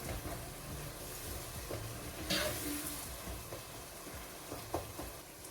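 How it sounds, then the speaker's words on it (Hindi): Masala for Korean chicken stirred in a pan, a steady low sizzle with scraping spoon strokes and a couple of brief clinks, fairly quiet and close, with no talk. "इसको अच्छी तरह से मिक्स कर लूंगी"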